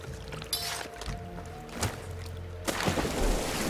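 Underwater swimming in the Far Cry 2 game: muffled watery splashes and soft thuds under a low, steady submerged rumble, with a brighter gurgling rush near the end, no talk.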